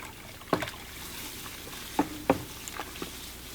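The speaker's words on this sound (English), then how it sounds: "Stir as I go." Crushed brewing grains stirred into mash water on a home brew day, giving a few soft sloshing, scraping strokes at irregular intervals with quiet gaps between them.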